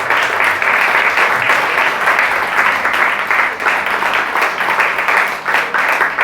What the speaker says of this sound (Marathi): परमेश्वरासाठी आपण जोरदार टाळ्या वाजवायच्या आहेत.